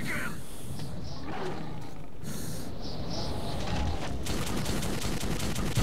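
Demon creatures roar in the Metro 2033 video game, deep snarling cries repeating close by, with bursts of gunfire toward the end.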